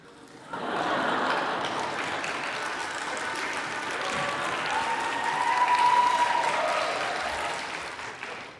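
A congregation at a church youth service claps warmly for about eight seconds, a sustained wash of applause that rises slightly near the end before fading.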